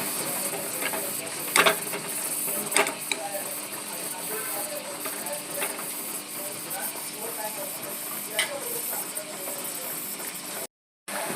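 A spoon stirs a pan of tur (pigeon pea) curry with tomato and sambar masala in oil, giving occasional sharp scraping clicks over a continuous soft sizzle, close and moderately loud.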